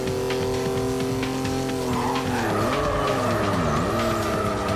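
A car drifts in the racing game NFS Carbon, its engine holding a steady loud drone before the revs swoop and dip as the tires skid through the slide.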